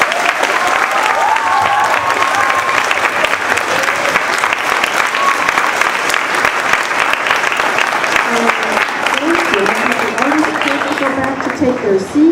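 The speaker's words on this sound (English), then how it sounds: "So a big round of applause for our artists." Sustained applause from a school audience for student artists at a Space Week opening, steady and dense throughout, with voices talking over it.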